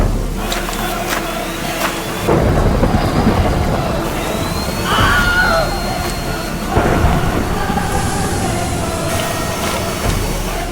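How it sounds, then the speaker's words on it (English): Simulated hail and strong wind from a leaf blower batter a LEGO set, a loud roaring rush with rattling impacts and bursts that swell and fade over about ten seconds. "so we cranked it up by bringing in the hail."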